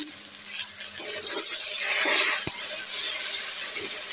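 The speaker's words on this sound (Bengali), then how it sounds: "দিয়ে ভেন্ডিটা নেড়ে করে দিচ্ছি" Okra frying with salt and turmeric is stirred in a pan: a steady, close sizzle with soft scraping movements and one sharp clink midway, and no voices.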